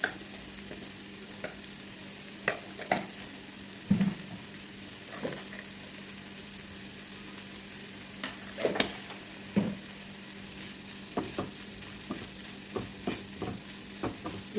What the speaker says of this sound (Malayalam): ഈ മസാലകളൊക്കെ എല്ലാ ഭാഗത്തും എത്താവുന്ന തരത്തിലൊന്ന് യോജിപ്പിച്ചെടുക്കുകയാണ്